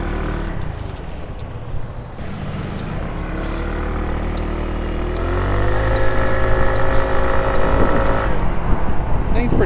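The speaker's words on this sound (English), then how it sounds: "Look, Udi Rides, I got a scooter." A 2003 PGO My Bubu 125 scooter engine drones steadily while riding, with wind buffeting and a rise in pitch and loudness as it speeds up partway through.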